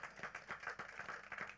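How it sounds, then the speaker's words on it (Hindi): A small burst of audience clapping at a radio station success party, quick scattered claps at moderate distance, fairly faint and without talk. "क्या बात, जोरदार ताली होनी चाहिए।"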